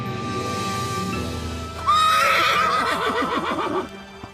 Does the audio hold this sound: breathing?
no